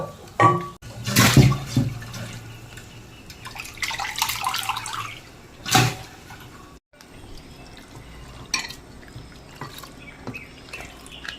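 Raw beef being rinsed in a bowl of water for a beef fry, with sloshing splashes and drips, a couple of sharper knocks, then quieter trickling and handling sounds.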